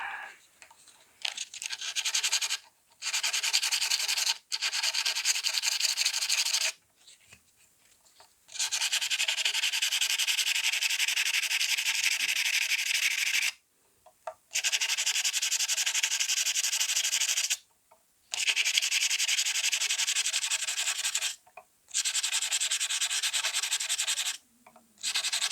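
Fret polishing on a Fender Squier Telecaster: repeated bursts of abrasive rubbing and scratching on the metal frets, close and fairly loud, each stroke run lasting a few seconds and separated by short pauses.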